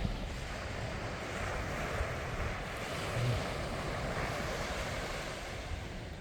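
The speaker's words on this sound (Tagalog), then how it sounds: "Hindi masyadong malakas yung malon." Calm sea waves at Shakespear Regional Park in New Zealand, a steady wash of gentle surf with wind buffeting the microphone, continuous and without speech.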